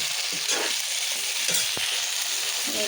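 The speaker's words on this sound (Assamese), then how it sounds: "তাৰপিছত এতিয়া বিলাহী আলুখিনি ভাজি দিম।" Tomatoes and potatoes fry in oil in a pan for a home tomato fish curry, giving a steady close sizzle with occasional stirring clinks and scrapes and no talk.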